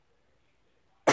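A single sudden cough from a person who is ill, loud and close, bursting out of near silence right at the end.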